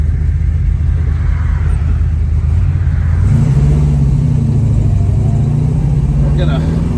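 Engine of a Plymouth Cuda with a manual clutch, running while driving down the road, a steady low rumble that rises in pitch midway as it accelerates, continuous and close throughout.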